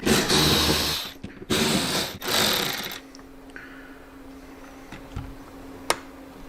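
Screws being backed out of a motorcycle saddlebag speaker lid give loud, close ratcheting and scraping bursts in the opening three seconds, followed by quieter clicks and a faint steady hum.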